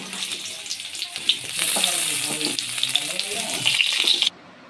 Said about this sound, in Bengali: পটলগুলো কড়াই দিয়ে দিই, পটলগুলো একটু লাল লাল করে ভেজে নেব